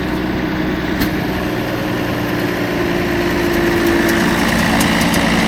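A logging forwarder's diesel engine runs steadily and loud, holding a constant idle-like drone with a slight rise toward the end as the stuck machine tries to drive forward.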